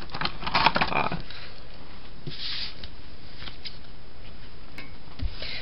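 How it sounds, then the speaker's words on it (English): Scissors trim paper strips stuck onto a handmade card, a few quick close snips and rustles bunched at the start, then near quiet with a single faint snip later. "we're just going to trim, use our scissors and trim this"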